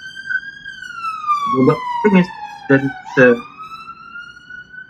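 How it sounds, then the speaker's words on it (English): An emergency vehicle siren wails steadily outside with a slowly falling, sustained tone, heard clearly beneath a man's close conversational speech. "That was siren, wasn't it?"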